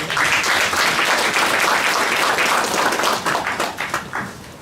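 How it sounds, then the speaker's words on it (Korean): Town-meeting audience in Galsan-myeon gives a round of applause, dense close clapping that holds steady and then thins out toward the end. "여러분 박수 좀 한번 주시고요"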